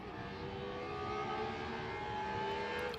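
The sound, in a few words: classic race car gear changes at Estoril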